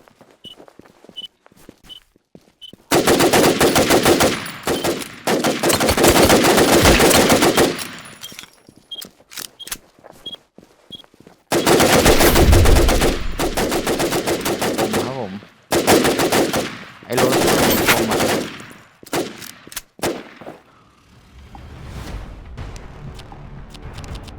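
Handgun fire while shooting at enemies in the video game Infestation: The NewZ: two long bursts of rapid shots separated by quiet stretches with faint footsteps, ending in a few shorter volleys.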